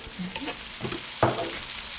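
Prawns frying in a pan with added spices and ginger, a soft crackling sizzle with light stirring scrapes and one sharper clatter near the end, fairly quiet and close.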